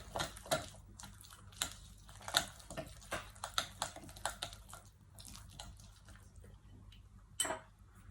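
Chicken marinade for BBQ, with mixed herbs, is stirred in a bowl, giving soft, close clicks and wet knocks in an irregular rhythm with quiet gaps between.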